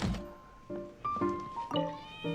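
A cat meows several times in Genshin Impact, short tonal mews at close range over a soft game background, with no talking.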